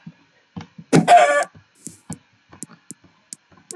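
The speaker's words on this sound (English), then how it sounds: "Oh, hi, little chicken." A Minecraft chicken gives a short burst of clucking amid sparse in-game clicks and taps, with quiet gaps between the sounds.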